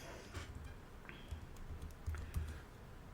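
Typing on a computer keyboard, soft irregular key clicks in a quiet room, close and fairly faint with no talking.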